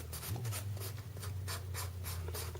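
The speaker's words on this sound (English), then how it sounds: "I'm going to come in with my file once again. And I'm just going to buff away" A nail file buffs plastic from an acrylic nail tip on a practice hand, making repeated short raspy strokes at an even rhythm, close and fairly soft.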